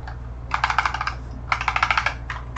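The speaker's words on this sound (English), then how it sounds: "if you can hear that clicking, my mechanical keyboard" A mechanical computer keyboard clicks in rapid bursts during digital drawing, with three clear clusters of crisp, close keystrokes separated by brief pauses.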